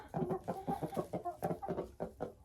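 Domestic laying hens of the Dominant Dark Shell breed cluck steadily in a busy run, a chorus of repeated clucks and short calls close by, with no talk over them.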